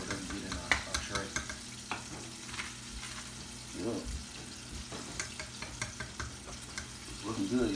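Chicken wings frying in a Fry Daddy electric deep fryer: a steady sizzle broken by intermittent clinks and knocks of utensils, moderately close, with no clear talking.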